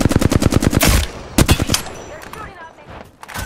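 Automatic gunfire in the video game Apex Legends, loud rapid bursts of shots up front, then scattered single shots and quieter crackle as the fight continues.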